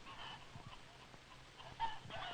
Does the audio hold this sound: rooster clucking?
yes